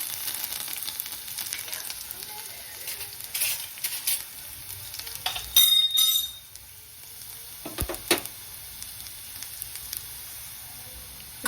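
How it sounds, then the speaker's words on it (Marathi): Mustard seeds and garlic sizzle in hot oil, a steady frying hiss with crackles and a few clinks of a utensil around the middle. "आता मी याच्यामध्ये मोहरी घालते आणि हे लसण घातलंय आहे"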